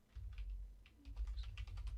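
Someone types on a computer keyboard while setting up a chart indicator for forex trading. A short burst of quick, light key clicks sounds faint and close over a low background hum.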